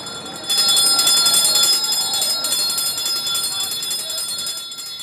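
A bell rung at the finish line to signal the final lap of a women's road cycling race at the Santos Tour Down Under, a loud ringing that sustains for several seconds and slowly fades.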